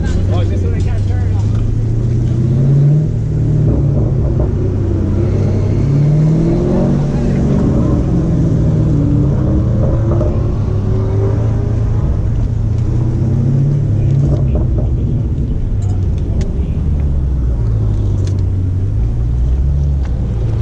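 A 2018 Mustang GT and a Challenger SRT 392 race in a dig race, producing a loud, continuous engine rumble with rising and falling revving tones that hold steadily across the whole stretch.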